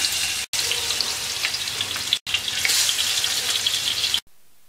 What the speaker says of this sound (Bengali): তেলটা গরম হয়ে গেছে, মাছ দিয়ে দিচ্ছি।